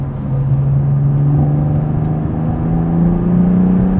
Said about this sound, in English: really decent sound here from this inline 6-cylinder.